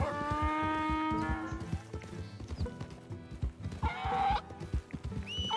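A donkey in the video game Red Dead Redemption 2 brays with long, harmonic honking calls at the start and again later, over rhythmic hoof clip-clops nearby.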